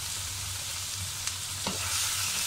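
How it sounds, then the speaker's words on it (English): Tomato and onion fry with salt in a pan as part of a nasi lemak sauce, producing a continuous even hiss of sizzling with a couple of faint soft knocks partway through. "We cook the tomato halfway through until its skin peels off."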